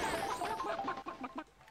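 A cartoonish chicken from the Diddy Kong Racing video game gives a short burst of clucking squawks, several quick, close syllables in a row that trail off.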